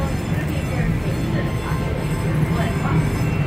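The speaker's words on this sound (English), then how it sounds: "We'll be on the train all day." Busch Gardens railroad train in motion at a theme park, a steady low rumble of a ride car with a faint rhythmic clatter, and voices talking over it.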